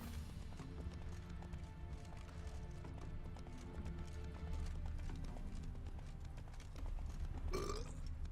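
A horse's hooves clip-clop steadily at close range over a low rumbling background in The Witcher 3, with a brief snort-like sound near the end.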